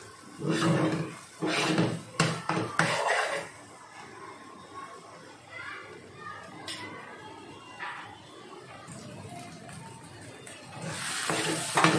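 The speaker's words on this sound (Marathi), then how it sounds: "त्याला 5 ते 6 मिनिटं चांगला तेलात परतून द्यायचं आहे." Masala for butter chicken fried in oil, with several loud stirring scrapes and clatters at the start, then a softer ongoing sizzle that swells again near the end, close by.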